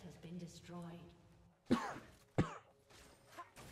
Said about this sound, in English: So I am going to cough, excuse me.